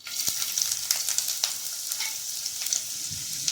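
Small chopped ginger pieces sizzling in hot oil in a pan, a steady close crackle with sharp pops and occasional stirring scrapes, no talk.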